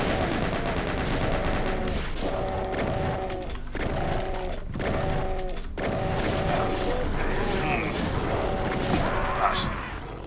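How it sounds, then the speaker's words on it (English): Rapid chaingun fire from the 1993 video game Doom, loud and continuous in stuttering bursts with brief gaps, layered with other game sounds. "like here is chain gun time"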